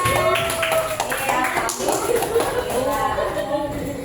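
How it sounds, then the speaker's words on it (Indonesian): Classroom students clap together in a brief round, the dense patter of hands mixed with overlapping voices and chatter throughout. "Oke, tepuk tangan buat semuanya."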